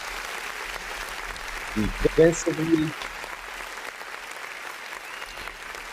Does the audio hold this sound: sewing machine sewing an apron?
no